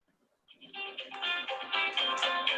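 A phone rings with an electronic melodic ringtone that starts after a brief silence and swells into a bright, layered run of tones, fairly faint and heard alone.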